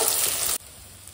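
Fish, a catla, frying in hot oil, a loud crackling sizzle that cuts off abruptly halfway, leaving a faint low bubbling.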